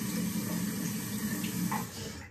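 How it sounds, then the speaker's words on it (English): Hot tap water runs steadily onto a razor blade at a sink, a continuous close splashing stream that tails off at the end. "I'm going to put a bit of hot water on here."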